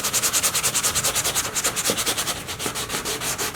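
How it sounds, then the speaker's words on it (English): Sandpaper of 400 to 600 grit rubs back and forth across the clear coat on a leather surface being prepared for repair, a close, steady rhythmic scratching of rapid strokes with no talking. "you need to sand the surface because there's a clear coat on there"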